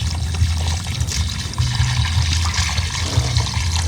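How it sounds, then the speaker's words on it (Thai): Water poured out in a steady gushing, splashing stream, close and fairly loud, with a low churning rumble beneath and no talk. "เทลง เทน้ำกัน"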